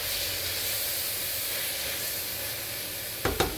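Tomatoes added to garlic in a pan hit the heat with a steady, broad sizzle and hiss that holds evenly throughout, ending in a couple of brief knocks near the end.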